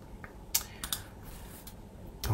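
Keystrokes on a computer keyboard, a handful of sharp clicks spaced irregularly across a couple of seconds, close and fairly quiet with no speech.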